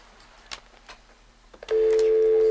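A telephone gives a few faint clicks, then a loud, steady electronic tone comes in and holds without a break, close and alone.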